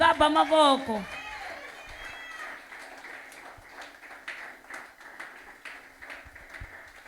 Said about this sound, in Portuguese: Alguém pode aplaudir a Jesus aqui?